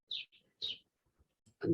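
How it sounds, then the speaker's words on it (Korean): Birds chirping outside, heard through an open door during an indoor lecture: a few short, high tweets, distant and clear, with a brief spoken word at the end. "지금 문을 열어놨는데 새소리가 들리네요"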